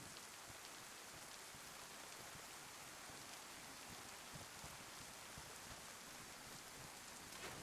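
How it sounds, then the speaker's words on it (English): Rain in the survival video game DayZ, a steady, even hiss of falling drops spread across the whole scene with no talk over it. "because it's raining"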